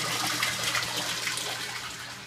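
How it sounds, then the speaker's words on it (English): Continuous rushing, splashing water with a steady low mechanical hum underneath from a submersible pump pushing water during a water change. "I've got this submersible pump"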